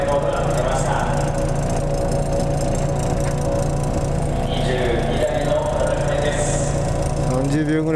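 A steady, rumbling car engine idles close by at a motorsport race final, constant and droning throughout, with faint voices and clatter over it.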